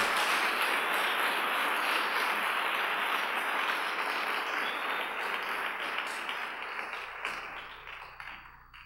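A church congregation applauds during an evening worship service, a broad, even rush of many hands clapping that stays steady for several seconds and then gradually tapers off, with no voices over it.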